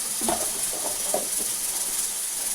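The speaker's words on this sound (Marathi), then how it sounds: "असं छान परतून घ्यायचं" Spices with chili powder, turmeric and salt sautéing in a pan make a continuous close hiss and sizzle, broken by a few soft scraping stirs.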